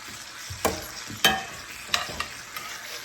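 Ribeye steak with garlic, thyme and butter sizzles steadily in a pan, broken by several sharp scraping clatters of stirring or basting, with no talking.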